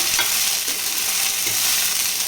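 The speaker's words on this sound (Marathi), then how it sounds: "जरा थोडासा वाटाणा भाजून घ्यायचा" Wet green peas being roasted in a hot pan for matar paneer, giving a steady, close, loud sizzle with scraping stir sounds, with no voices.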